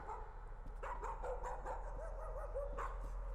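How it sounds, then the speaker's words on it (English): A game dog in the horror game Layers of Fear yelps and whimpers in a quick string of short, moderately close cries over a steady low hum, with no one talking. "The puppy's here. It's gonna be a zombie dog."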